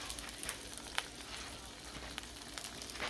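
A folded tortilla wrap with cheese sizzles steadily in a heated pan, a continuous close crackling hiss with scattered sharper pops and no voices.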